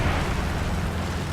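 A plane slams into a mountain in War Thunder, a loud, dense explosive roar that fills the whole moment without a break.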